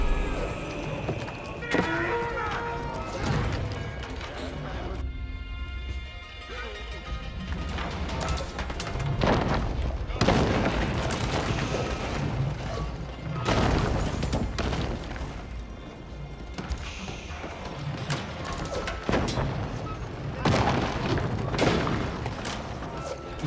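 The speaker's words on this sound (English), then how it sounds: "Mangonels now being deployed in the field, barraging the town center." Mangonels in Age of Empires 4 barraging a town center: repeated heavy booms and crashing impacts at irregular intervals, mixed with battle noise across a long stretch of loud in-game combat.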